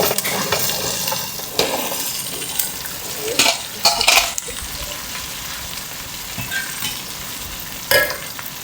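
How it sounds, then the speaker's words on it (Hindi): Okra (bhindi) frying with spices in a pan while being stirred, a constant sizzle broken by several sharp spatula scrapes and knocks against the pan, fairly close. "अब इसको भिंडियों को करेंगे अच्छे से मसाले के साथ फ्राई"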